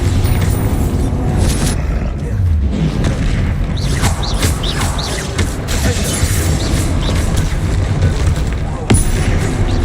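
Spell explosions from the Bombarda curse in Hogwarts Legacy boom over dense game noise, with creaking, clanking debris and a sharp crack near the end, continuous and loud.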